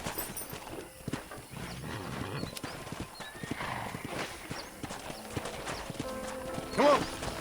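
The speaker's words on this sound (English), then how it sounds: "That ranch hand said there's a pack of wild horses nearby." A pack of wild horses in Red Dead Redemption thunders past with steady clip-clopping hooves and a sharp whinny near the end, amid an open outdoor game soundscape.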